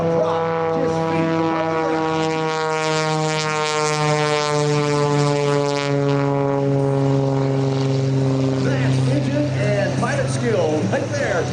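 Skip Stewart's propeller aerobatic biplane Prometheus holds knife edge flight a few feet above the ground at an air show, its engine a loud, steady droning roar with strong harmonic whine throughout, under a public-address announcer's voice.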